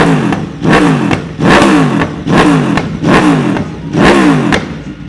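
An Aprilia RSV4 motorcycle engine is revved repeatedly and loudly up close, six sharp blips in a steady rhythm, each rising and falling quickly.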